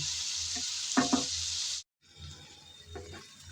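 Small potatoes and yardlong beans frying with spices, a bright steady sizzle with a couple of stirring scrapes, cut by a brief silence, then a quieter crackle with another stir.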